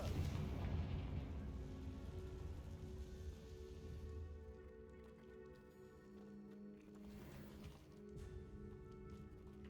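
A Confringo blasting-spell explosion in Hogwarts Legacy bursts with a deep rumble at the start, then crackles and decays slowly under sustained tonal game music.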